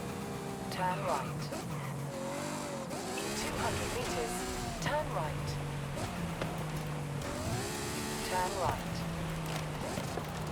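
A Ferrari driven in the racing game Forza Horizon 5, its engine rising and falling through gear changes with tire squeals, while people talk over it throughout.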